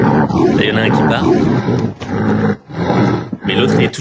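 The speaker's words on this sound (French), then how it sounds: "C'est des grognements défensifs, des grognements de peur." A frightened tiger growls defensively in low, rough bursts, close and loud, broken by short pauses, with a person speaking over parts of it.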